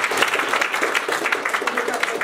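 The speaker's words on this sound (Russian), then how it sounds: "Спасибо за аплодисменты." An audience at an evening quiz game event applauds, giving brisk, crowded clapping with a voice speaking alongside it.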